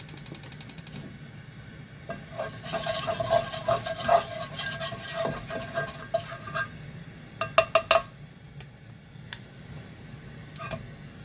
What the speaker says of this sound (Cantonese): 跟住就可以煎啦，落少少油，